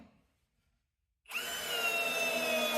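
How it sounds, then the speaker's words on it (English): A Ryobi cordless drill on speed 1 with a full battery drives a lag bolt, its motor whining up abruptly after a moment of silence and holding a loud, steady, high-pitched drone close by. "It drives the lag bolt in"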